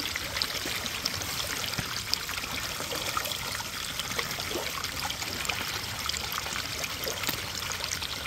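Water trickles and streams steadily over a gold prospecting sluice fitted with dream and dual mats, washing larger rocks down its length outdoors in West Virginia; a continuous close wash with no talk.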